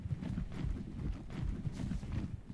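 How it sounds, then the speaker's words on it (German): Horse hooves in the survival game Ark: a soft, muffled, quick series of thuds from a horse moving over the ground, steady and fairly close, with no talking over it. "Es ist ja nichts weiter als ein normales Pferd."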